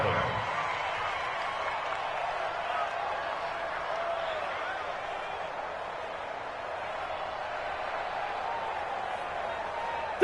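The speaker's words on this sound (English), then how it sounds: "The crowd getting into it as we come up on a big 3rd down." A stadium crowd roaring in a football video game ahead of a big third down, a continuous dense wash of cheering and applause held steadily at one level, heard alone without talk.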